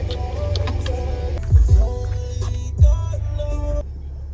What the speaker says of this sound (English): I've clearly made it inside the car wash